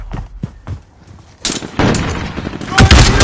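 Gunfire in Call of Duty Modern Warfare: a few sharp, separated shots at first, then a dense, loud burst of rapid automatic fire with heavy reports, close up and overlapping.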